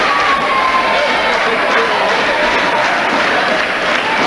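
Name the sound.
crowd cheering and chanting at a wrestling match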